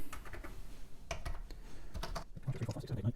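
Keys tapped one after another on an Amstrad CPC464 keyboard during a test, with a numpad 7 key that does not work, giving a close, irregular run of plastic clicks.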